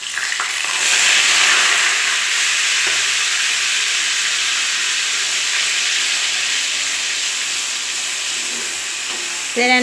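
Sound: ground onion, garlic and ginger paste frying in a pan

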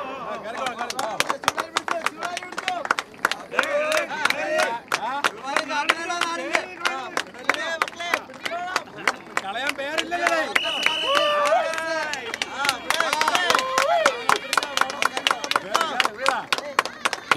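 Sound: applause at a volleyball match

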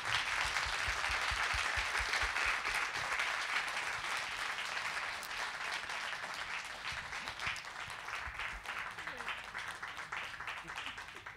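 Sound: audience applause for panelists

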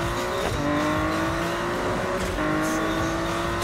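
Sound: car engine and tire squeal in video game Need for Speed 2015

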